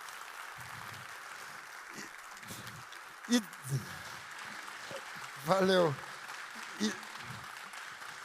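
Audience at a summit lecture in Timbó applauding after the talk ends, light and fairly distant clapping under a speaker's voice, with a few louder bursts close to the microphone.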